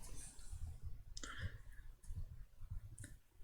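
A computer mouse clicks during FreeCAD modelling work: a few sharp, isolated clicks spaced about a second apart over a quiet, low background hum.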